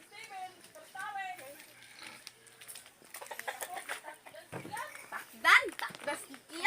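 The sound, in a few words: chicken clucking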